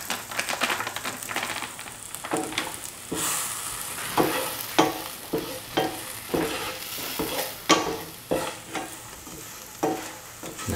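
Prawns with Kashmiri chilli powder being stirred in a pot for a dry prawn and green mango stew: soft scraping and stirring strokes in an irregular rhythm over a faint sizzle, no talking.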